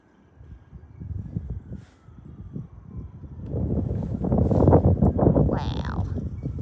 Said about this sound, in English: Oh yeah, we are in for a gust.